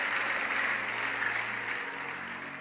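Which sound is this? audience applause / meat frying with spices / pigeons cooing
audience applause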